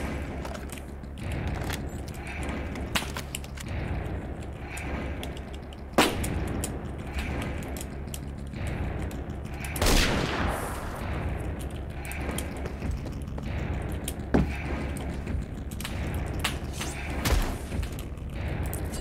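Gunfire from a gun in the Roblox shooter Phantom Forces, dense continuous gameplay bursts and clicks with a few sharper louder shots scattered throughout.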